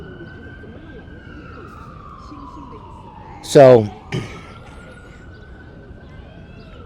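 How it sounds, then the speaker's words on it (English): A siren wails steadily in the distance, its tone slowly falling and rising again, while someone speaks briefly nearby. "There's a little siren going around the park here."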